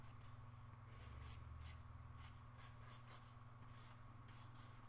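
A pen scratches quick strokes on paper while sketching a small crab, faint short bursts repeating in an uneven rhythm over a steady low hum.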